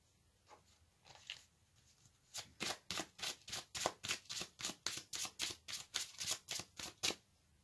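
Tarot cards shuffled and drawn at close range, with a few soft handling sounds followed by a long, steady run of crisp, rhythmic riffling snaps and no talking.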